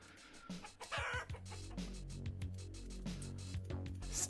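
Chickens near a coop in the PC game Day of the Sandwich cluck and squawk in a busy, close run of short, choppy calls, fairly loud over soft background game ambience.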